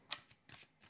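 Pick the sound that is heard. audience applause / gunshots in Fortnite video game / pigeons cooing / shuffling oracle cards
shuffling oracle cards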